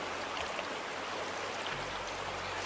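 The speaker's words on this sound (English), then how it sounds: "dumping out the water." Water dumped out of a bucket in the Gold Mining Simulator video game rushes and splashes in a steady, loud wash that lasts the whole moment.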